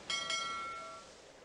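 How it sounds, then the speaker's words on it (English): A bright chime from the Carmen Sandiego's Great Chase Through Time video game rings twice in quick succession, its tone sustaining and fading over about a second. "Bell."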